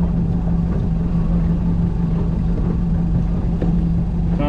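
A boat engine cruising on the water, a loud, constant, close-up drone with a deep steady hum and no break in the roar.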